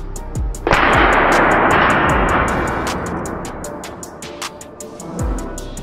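A sharp launch thump followed by a long roaring burst, then crackling rapid pops and another thump near the end; loud and outdoors, no talking.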